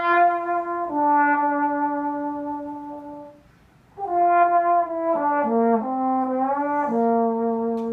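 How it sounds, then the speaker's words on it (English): Solo trombone plays a series of sustained notes, close and loud, with smooth slide glides between pitches and a brief pause midway; no talking. "a trombone sounds like this."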